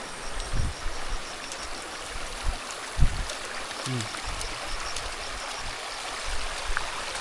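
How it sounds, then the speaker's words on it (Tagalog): Water rushes down a rocky dirt road that has turned into a stream, a constant broadband wash with a few soft thuds and knocks over it, moderately close and steady throughout. "Nagiging sapa na yung daan namin kasi bato talaga ito dito."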